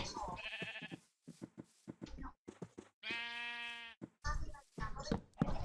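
Sheep on a Minecraft farm bleat in several short harmonic calls scattered through the clip, with one long bleat in the middle, mixed with game clicks and effects.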